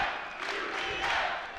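A large crowd at a college men's basketball game roars and cheers in a dense, sustained wall of voices, with swells of shouting rising and falling close around.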